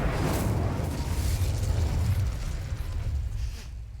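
A fire spell cast in a Harry Potter video game erupts as a dense, roaring whoosh of flame, loud and sustained for several seconds before tailing off at the end.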